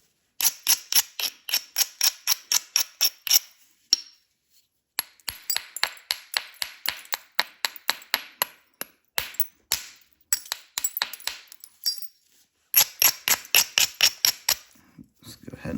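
Direct percussion knapping on river chert gives rapid runs of sharp, close stone-on-stone clicks and taps, coming in regular bursts separated by short silent pauses.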